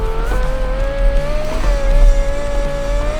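A Group B rally car in the BeamNG driving game, its engine droning at a steady high pitch with small rises and dips in revs, loud and close throughout, with a constant low rumble underneath.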